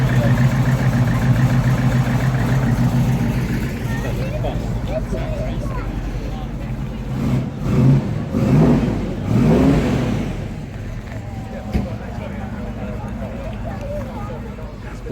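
A Chevrolet Camaro at an American car meet idles with a low, steady rumble, then revs in a few swelling bursts before settling back, heard under a busy outdoor crowd.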